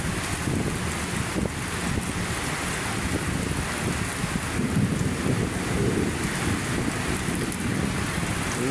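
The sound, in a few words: heavy rain and wind at Manila Bay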